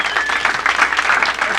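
Applause from a comedy club audience at the DC Improv during a stand-up set, a dense burst of clapping filling the room for under two seconds with no voice over it.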